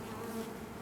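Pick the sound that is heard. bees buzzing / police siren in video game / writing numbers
bees buzzing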